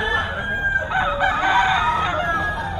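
A young stag rooster of the Kanawayon Hatch line crows, a single drawn-out call sounding close and clear over faint background clucking from other fowl.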